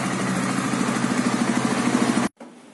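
A Honda CB150R ExMotion motorcycle idles through its silencer with a steady, loud, throbbing exhaust note that pulses evenly, then cuts off abruptly near the end, leaving a short quiet tail.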